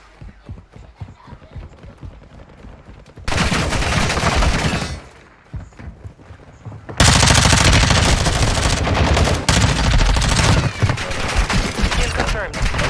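Small-caliber gunfire in a video game: loud, rapid bursts of shots break in after a quieter opening, drop off briefly, then return as heavier, nearly continuous fire to the end.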